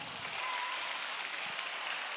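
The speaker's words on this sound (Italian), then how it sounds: "Applauso per Benito Urgu." Sustained audience applause for Benito Urgu at a live outdoor event in Ollolai, a steady dense clapping wash throughout with no voices standing out.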